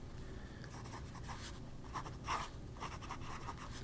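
A nib pen scratches across paper in soft, continuous strokes, close and faint, with no talking.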